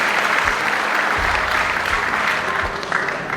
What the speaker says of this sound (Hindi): आप एक ताली बजा करके स्वागत करें।